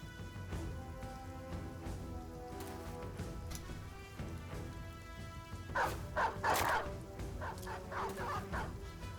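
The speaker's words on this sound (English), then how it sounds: "Got some doggies." Dogs barking in the video game Reforged, several faint yapping barks in a quick cluster over a busy low game soundscape of music and ambient noise.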